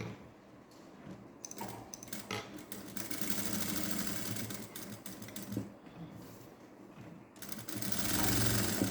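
A sewing machine stitches with green thread, running in steady bursts with brief pauses and handling clatter between, close and fairly loud.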